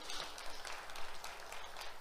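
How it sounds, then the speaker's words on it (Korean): Applause from a church congregation at a Sunday service, honoring a student admitted to university; a steady wash of clapping at moderate distance with no talking. "우리 박수 한번 해주세요"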